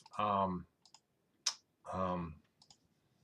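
A single sharp computer mouse click while working in Google Sheets, quick and isolated in a quiet room, falling between stretches of a person speaking.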